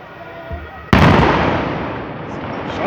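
A chimney in Glauchau is brought down by explosive demolition. A sharp, heavy blast cracks out after a faint lead-in, then fades into a long, decaying rumble, with onlookers' voices audible nearby.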